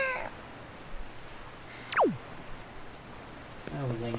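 Link, the hero of the video game Zelda: The Wind Waker, gives a single quick meow mid-clip, imitating a cat, with brief chirpy game sounds just before and after.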